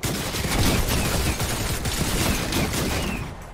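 Dense, continuous gunfire in a Fortnite-style shooter video game, a rapid sustained barrage of overlapping shots close at hand that keeps going loud for several seconds before tapering slightly at the end.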